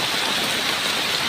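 Heavy rain pours in a dense, even roar with wind, close and continuous for the whole moment, with no voices.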